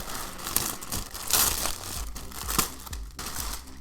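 Crisp plastic packaging crinkles and rustles up close as a new TechnoBlade Youtooz plushie is pulled free, with irregular bursts of crackling and a few soft thumps.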